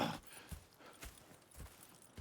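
Horse hooves clip-clop in Red Dead Redemption 2, a steady rhythm of about four soft, close thuds over a quiet ambient background, with no talking.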